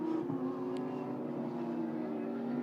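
A Lamborghini GT race car accelerates out of the final corner at Paul Ricard, a steady buzzing engine tone of moderate loudness that holds through the short stretch without clear pitch climbs.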